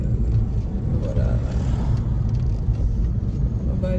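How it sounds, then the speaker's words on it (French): Steady low rumble of road and engine noise from inside a new car driving slowly, a continuous dull drone with no break. "Je roule doucement parce que je conduis."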